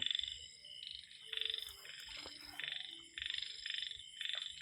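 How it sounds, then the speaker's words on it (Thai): A live frog used as fishing bait croaks in rhythmic pulsing bursts, fairly faint, repeating several times over a steady high background tone. "กบ"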